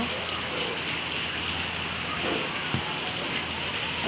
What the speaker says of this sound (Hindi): बारिश हो गया बहुत दिन बाद में